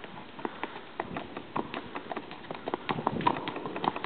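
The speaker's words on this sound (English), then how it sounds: "She's got a nice little slow lope." A trail horse lopes slowly, its hooves clip-clopping in a steady, quick rhythm on the ground, fairly faint and a little distant, with no voices.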